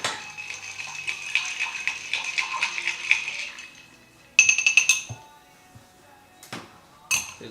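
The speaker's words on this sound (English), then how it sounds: "that's my stir mixing glass. We're gonna stir that on up." A bar spoon stirs a cocktail over ice in a mixing glass, a steady rapid run of bright glassy clinks that stops, then a few louder clatters and knocks close by.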